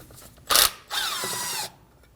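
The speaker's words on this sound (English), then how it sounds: "to remove our brake rotor, we need to remove the number 3 Phillips rotor screw" A power tool backs out a number 3 Phillips brake rotor screw on a 2016-2022 Honda Pilot rear hub, giving a short close burst, a pause, then a longer steady whir of about a second.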